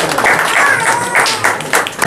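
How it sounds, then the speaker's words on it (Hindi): An audience at a National Journalism Day event gives loud applause, close and bright clapping with rhythmic swells, and a voice or cheering is mixed in. "जोरदार तालियां"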